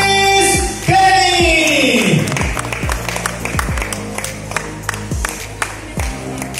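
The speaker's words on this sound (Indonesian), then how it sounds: "Juara satu, tepuk tangan yang meriah." An audience claps and cheers for the first-place winner of a short product video contest, dense clapping with a few shouts, while a voice carries over the crowd at the start.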